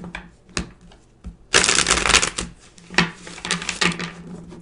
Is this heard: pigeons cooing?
no